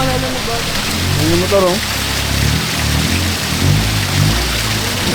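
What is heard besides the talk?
heavy rain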